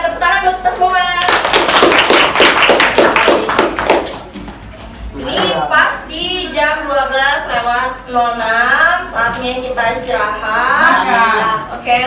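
Classroom group clapping, a loud, fast burst of many hands for a few seconds before fading into a teacher talking at length.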